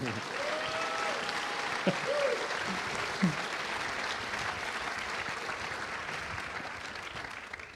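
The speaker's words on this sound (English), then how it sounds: "Give him a big round of applause, everybody." An audience applauds steadily at a talk, continuous mid-level clapping filling the room, with brief vocal sounds near the start.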